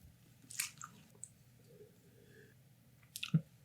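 Close, wet chewing of cooked cabbage from corned beef and cabbage, with soft squishy bites spread through a quiet room and a sharper crunchy bite near the end.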